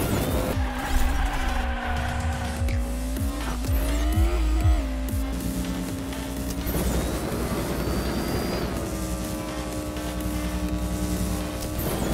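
Toy-style race cars speed around a track in the Hot Wheels Unleashed video game, with loud continuous engine whine, shifting pitch as cars boost, and repeated tire squeals and skids, with no talking.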